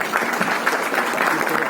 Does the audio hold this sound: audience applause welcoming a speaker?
yes